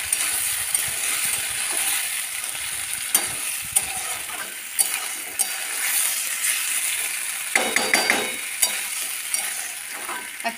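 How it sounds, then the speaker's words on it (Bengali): Marinated chicken with tomatoes is sautéed in a pan, giving a loud, continuous sizzle broken by frequent sharp clicks and scrapes of the stirring utensil. "চিকেনটা আমি ম্যারিনেট করে রেখেছিলাম, দিয়ে দিলাম। এবার ভালো করে কষিয়ে নিতে হবে"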